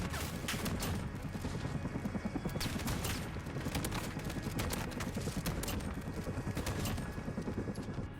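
Rapid, continuous gunfire from a Model 680 shotgun and other weapons in Call of Duty: Modern Warfare survival mode, heard as dense loud bursts of shots and booms that repeat in quick succession throughout.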